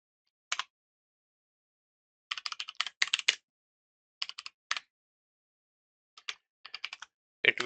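Computer keyboard typed on while writing SystemVerilog code; short bursts of crisp key clicks separated by silent pauses, close and alone with no talking.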